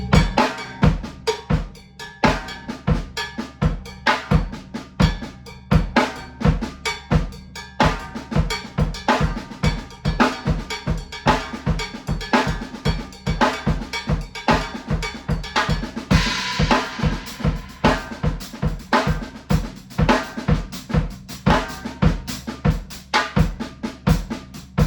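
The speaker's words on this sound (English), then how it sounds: "So if I were to voice it on the cowbell" Paradiddle sticking played on a cowbell in a triplet, three-over-four feel: a steady stream of sharp metallic clanks with accented strokes, loud and close, continuous for the whole stretch with no talking.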